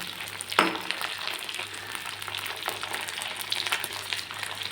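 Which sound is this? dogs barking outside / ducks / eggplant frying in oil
eggplant frying in oil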